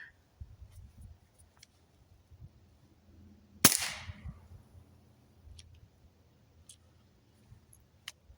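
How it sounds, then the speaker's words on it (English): A single sharp, muffled crack of a suppressed .22 pistol firing a CCI subsonic round, fairly close, with quiet outdoor ambience and faint clicks around it. "We're going to be shooting CCI subsonics."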